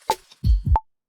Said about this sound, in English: I've got this double kick here, which sounds quite interesting